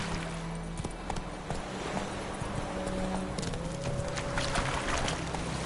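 Steady clip-clop of Roach, Geralt's horse in The Witcher game, trotting at an even pace through the whole stretch, with a low continuous rumble and faint tonal game sounds underneath.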